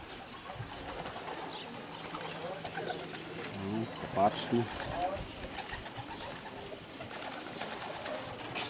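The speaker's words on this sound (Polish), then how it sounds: "To jest cały urok patrzeć sobie na takie gołębie latające." Homing pigeons of a Polish racing-pigeon club section in Moszna, out on a training flight over the loft, give soft cooing and bird sounds under steady outdoor background while people talk throughout.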